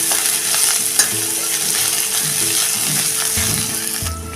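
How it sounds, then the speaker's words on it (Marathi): Curry leaves and coarsely crushed spices sauté in hot oil in a pan, crackling and sizzling steadily while a spoon scrapes and stirs in repeated strokes close by. "त्यात आता हा टाकूया कढीपत्ता एक मिनिटभर हे सगळं आता परतून घेऊया"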